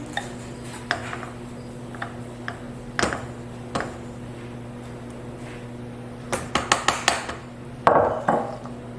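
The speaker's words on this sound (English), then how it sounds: "we're just going to scrape, make sure we get all of that off the bottom" A spatula scrapes almond cake batter from the bottom of a mixing bowl, giving scattered soft scrapes and light clinks at irregular intervals, bunching into a quick cluster near the end over a steady low background hum.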